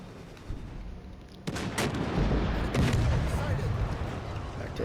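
A torpedo boat in World of Warships fires a gun salvo in naval battle gameplay, a sudden sharp burst of shots followed by a sustained, rolling barrage of booms.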